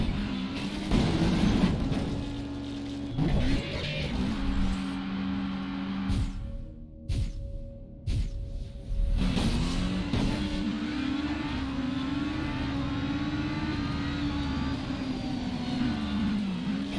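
A race car engine in the video game Race Driver: Grid revs loudly and climbs through the gears, with brief drops during shifts and a sustained high whine afterward.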